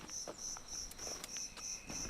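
Crickets chirp steadily in a rural lane at night among trees and open fields, a regular pulsing trill repeating about every quarter second at moderate distance, with faint other insect buzzes around.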